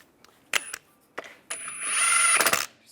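A power tool zips the lug bolts tight on a 1998-2010 VW Beetle wheel during a suspension knuckle replacement, heard as two short whirring bursts followed by a longer run that strains and stops, close and fairly quiet.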